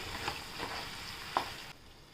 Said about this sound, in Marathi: गवार टाकूया पण छान परतून घेऊया